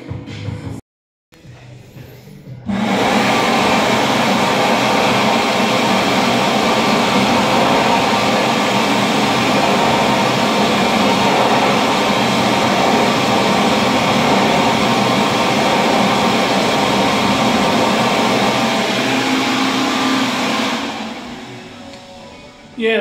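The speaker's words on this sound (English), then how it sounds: "That's just a standard warm air hand dryer." A standard warm air hand dryer in the UK: a loud, steady blast of rushing air roars for about eighteen seconds after a brief click, then winds down and cuts off.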